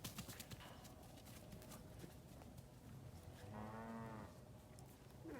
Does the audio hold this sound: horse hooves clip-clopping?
yes